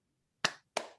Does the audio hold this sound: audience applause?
yes